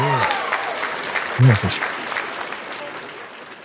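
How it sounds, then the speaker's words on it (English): Audience applause at a boxing-themed gathering, a steady patter of clapping running through the whole moment with a voice talking over it. "Y'all give him a round of applause."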